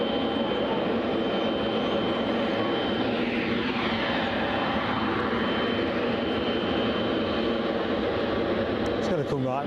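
Airplane moving along the runway at Cologne Bonn Airport: a loud, continuous engine roar with a shifting whine as the aircraft passes, steady and dominant, with voices talking over it.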